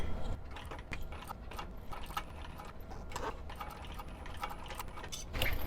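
A sewing machine with a zipper foot top-stitches a coin purse, its needle chattering in a rapid, fairly quiet mechanical rattle with brief pauses and small clicks.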